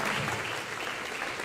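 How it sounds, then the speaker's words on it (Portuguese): Brief burst of congregation applause in a Portuguese-language church service, dense continuous clapping from many hands with no voices over it. "Aplaude a Jesus, glorificando a Deus."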